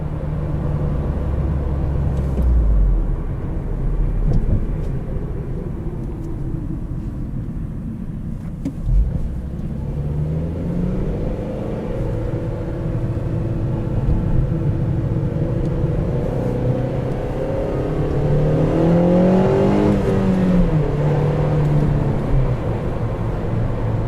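A 2012 Honda Civic Si engine rumbles low, then revs up with rising and falling tones, the pitch sweeping higher toward the end as the engine climbs, heard from inside the car without talking.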